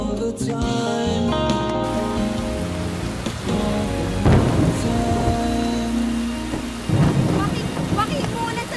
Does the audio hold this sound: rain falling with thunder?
yes